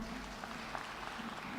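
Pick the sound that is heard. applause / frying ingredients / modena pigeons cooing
applause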